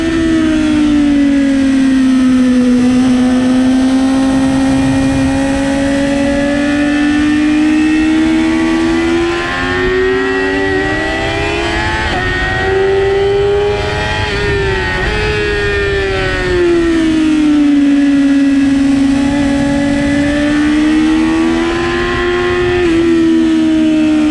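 A car at its first track day at Alès, engine droning loud and close the whole time, pitch falling on a downshift and rising again as it accelerates out of a curve.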